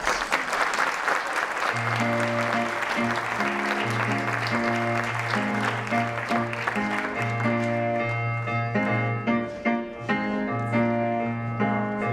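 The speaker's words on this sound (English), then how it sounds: "Let's give them a round of applause" Audience applause welcomes a choir onto the stage at a concert, the clapping running continuously beneath loud sustained instrumental notes that dominate the mix.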